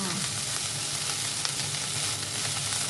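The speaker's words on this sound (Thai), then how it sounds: "ผัดให้ข้าวแบบเด้งเลยลูก ผัดเรื่อยๆผัดเรื่อยๆเลยค่ะ" Seafood fried rice sizzling and being stir-fried in a hot pan, a dense continuous frying hiss with faint scraping of the stirring, close and steady.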